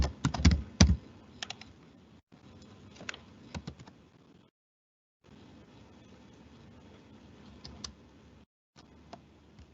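Python code being typed on a computer keyboard, bursts of quick key clicks with a few louder strikes, separated by short silent pauses, close and clear with no talking.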